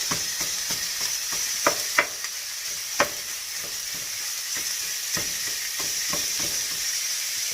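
Ground beef sizzles in a hot pan as it is broken up and minced, a steady frying hiss punctuated by repeated scraping clicks of the utensil against the pan.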